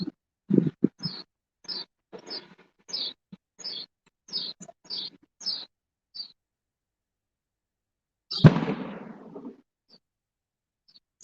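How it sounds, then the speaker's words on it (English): A nearby firework goes off as one sudden loud bang with a rough, fading tail, preceded by a string of short, high chirps in the quiet. "That was a firework nearby. That really doesn't sound like anything but an explosion."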